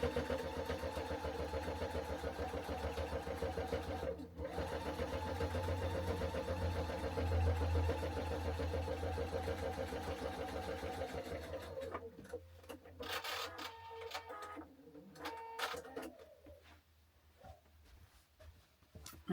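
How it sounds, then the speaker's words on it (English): A sewing machine stitching through several layers of fabric for an advent panel pocket runs with a steady, continuous motor hum, then slows into short irregular bursts and rattles toward the end. "just to make sure that you're kind of stitching through all those layers that you've got there"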